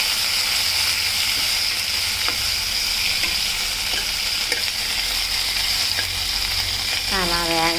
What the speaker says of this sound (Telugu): వామాకుని ఇలా మనం దాంట్లో వేసుకోవాలి. కొంచెం వేగనివ్వాలి.